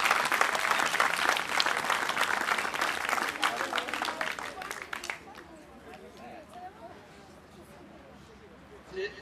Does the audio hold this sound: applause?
yes